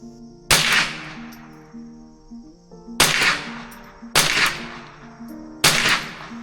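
Ruger 10/22 .22 rifle firing four sharp, loud shots at uneven intervals, each cracking out and ringing off in a short echo, with a faint steady tone behind.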